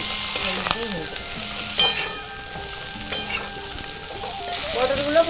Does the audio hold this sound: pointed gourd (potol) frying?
yes